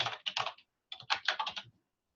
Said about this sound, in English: that's where you're going to click and write Arin's name